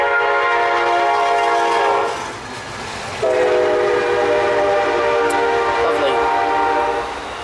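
A train rolls by on railroad tracks right beside a home, its loud horn blaring in two long sustained blasts over the rumble of the passing cars, close and dominant.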